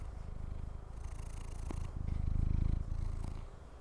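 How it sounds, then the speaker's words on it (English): A cat purring close into a microphone, a loud, steady rumbling purr that swells and fades with each breath, heard alone. "He's purring into the mic"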